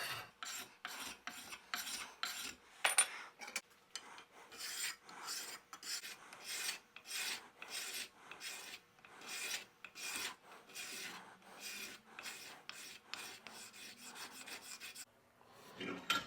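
A flattened steel scraper strips varnish from a Harbor Freight hatchet's wooden handle in steady back-and-forth rasping strokes, close and even, with one short pause near the end.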